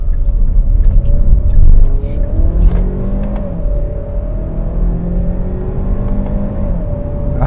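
A 2018 Kia Sportage Turbo accelerates hard from first gear, its engine note climbing in a steady, close drone that builds and then holds with no talking over it.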